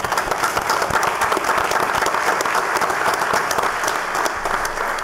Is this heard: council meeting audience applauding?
yes